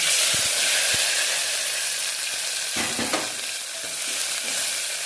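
A paste of green chillies, garlic and salt sizzles loudly in hot oil in a pan, with a continuous close frying hiss and a few soft stirring knocks.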